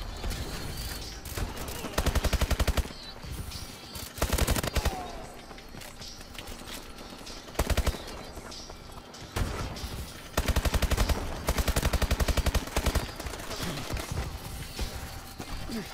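Gunfire in the video game Call of Duty Advanced Warfare: repeated bursts of automatic fire and single shots, loud and close, broken by quieter gaps.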